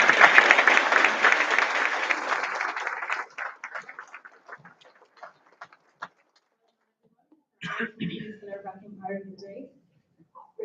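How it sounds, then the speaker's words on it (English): Applause for graduates at a graduation ceremony: a crowd claps loudly and densely for about three seconds, then thins to scattered claps and fades out, followed by a short burst of talk. "I ask you to extend a huge congratulations and round of applause to all our graduates"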